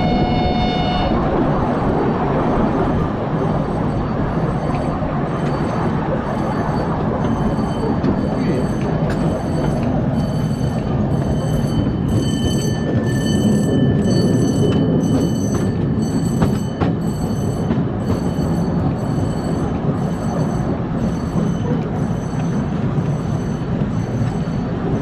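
A park railway train rolls steadily past a level crossing at Vatterode, with a continuous low rumble of wheels and cars close by. The noise holds at an even level throughout, with no voices.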